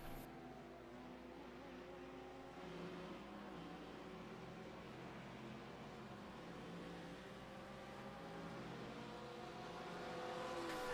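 A Lamborghini race car in a sim racing game at Sebring drones steadily with a harmonic engine whine, holding a constant pitch and swelling slightly louder toward the end, with no voices over it.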